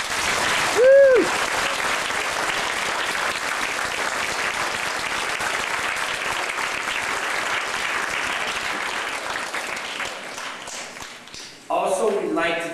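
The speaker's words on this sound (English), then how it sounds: "I really want to give a round of applause to Sarnia for all her efforts." Loud applause from an audience at a community event in Guelph, with a whoop rising over the clapping near the start. The clapping fades toward the end, and then a voice speaks.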